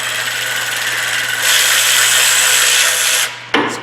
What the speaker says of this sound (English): Just stick that bolt back in there.